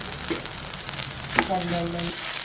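Fenugreek seeds fry in oil with a steady, fairly loud sizzle throughout, while a short tonal hum rises above it for a moment midway.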